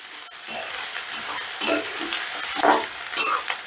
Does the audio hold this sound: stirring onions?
yes